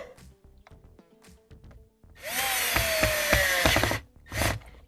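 A small Torx 10 driver tightens a screw on a Tesla interior panel: light clicks and taps, then a loud whirring, grinding burst lasting about two seconds, followed by a shorter burst.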